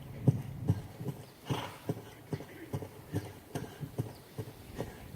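Hooves of a ridden horse in a schooling session, soft rhythmic thuds at a steady gait, fairly faint and evenly spaced, with no talk over them.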